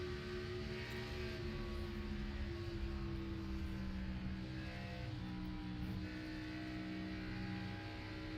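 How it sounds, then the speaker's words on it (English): A race car engine droning steadily as the driver works the throttle, a sustained buzzing tone with slight pitch wavers, heard loud and continuous with no talk over it. "You hear Gary playing with the accelerator there, that throttle."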